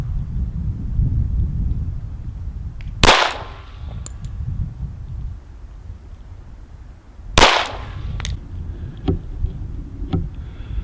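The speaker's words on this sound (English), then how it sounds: "That's 3 shots." .45 ACP Para Ordnance 1911-style pistol fired at an outdoor practice range, sharp loud cracks spaced several seconds apart over a low background rumble.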